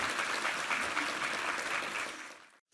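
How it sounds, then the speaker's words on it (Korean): A church congregation claps during an Easter Sunday service, producing a dense, even burst of applause that runs for over two seconds before cutting off abruptly into silence. "우리 하나님께 감사와 영광의 박수 올려드리겠습니다"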